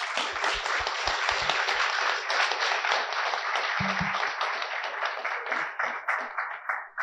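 An audience at an IEEE conference session in Jamaica applauds in a dense, sustained wash of clapping that gradually thins toward the end, with a few faint voices underneath.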